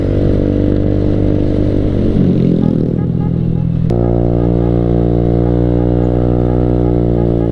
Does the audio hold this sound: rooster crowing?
no